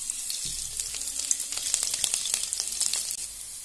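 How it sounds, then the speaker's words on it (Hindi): Cumin seeds and garlic, along with bay leaf, fry in hot oil for a pea chutney, giving a steady, close, crackling sizzle with small pops throughout and no talking. "1/2 स्पून जीरा ऐड करेंगे और इसको थोड़ा हल्का सा ब्राउन करेंगे। अब इसमें लहसुन ऐड करेंगे,"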